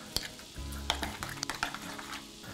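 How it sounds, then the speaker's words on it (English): A spoon stirs salsa verde with Parmesan in a bowl, giving soft scraping and a few light clinks against the bowl, quiet and close with a faint sizzle in the background. "Now we'll give it a good old stir."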